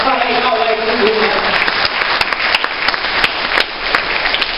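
Church congregation at a fellowship gathering applauding, a dense wash of clapping filling the room with a voice speaking over it at the start.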